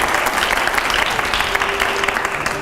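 Enthusiastic applause from a studio audience at a televised Hindi quiz-style event, dense steady clapping that fills the room without any speech over it.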